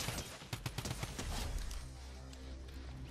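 A drum gun firing in a video game, rapid bursts of shots rattling off in a quick uneven string, loudest early on and then tapering into quieter ambient noise.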